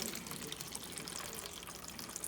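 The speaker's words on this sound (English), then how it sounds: "we try to put enough water in so that it soaks up so that the roots can get it" Water pours steadily into indoor seedling trays for bottom watering, a soft continuous trickling and splashing heard close and quietly with no talking.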